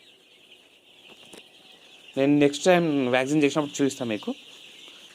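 Eight-day-old Aseel cross chicks chirp and peep in a brooder, faint at first and then a close, busy burst of overlapping calls while someone speaks over them.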